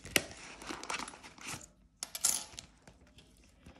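Cash coins handled from budget envelopes clink close by in two quick, quiet bursts of metallic jingling, separated by a short pause.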